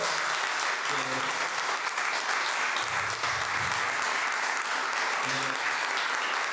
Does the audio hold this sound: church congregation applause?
yes